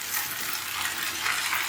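Chopped tomatoes go into a pan of frying onions for an okra stir-fry, giving a loud, steady sizzle with light stirring and scraping, close up and without speech.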